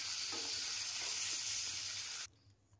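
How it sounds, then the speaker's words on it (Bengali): Fish pieces seasoned with salt and turmeric sizzle steadily in a hot pan, a close, bright frying hiss that cuts off abruptly near the end, leaving only faint background. "এখানে আমরা মাছগুলোকে নুন আর হলুদ দিয়ে ভেজে নিচ্ছি"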